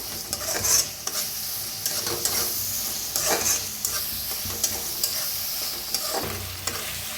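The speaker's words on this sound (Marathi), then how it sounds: "टमाटर बरोबर कोथिंबीर बी भाजून घ्यायची" Tomato and coriander roast in a hot pan for a Bhogi festival thali, a steady sizzle broken by repeated scraping stirs, close and fairly loud, with no talking.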